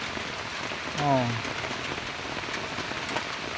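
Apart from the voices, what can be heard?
morning rain falling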